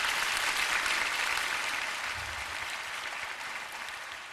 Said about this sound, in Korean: 우리 응원의 박수 한번 보내주시기 바랍니다.